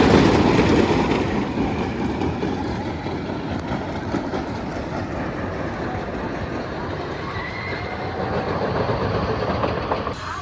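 The Nickelodeon Streak roller coaster at Blackpool Pleasure Beach rumbles along its track with a steady, loud clattering roar that fades slightly and then swells again. No one speaks over it.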